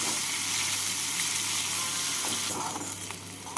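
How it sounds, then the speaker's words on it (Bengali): Chopped onions fry and brown in leftover fish-frying oil for a Bengali tangra fish curry with eggplant and potato, giving a steady, close hiss of sizzling throughout, with a few stirring scrapes near the end. "একটু লাল করে ভেজে নিচ্ছি।"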